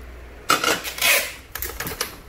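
Japanese stainless steel pot and lid being handled, with several bright metallic clanks and scrapes in irregular bursts, close by and moderately loud, with no talk over them.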